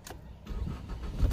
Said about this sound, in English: start the car. Okay, started good for me.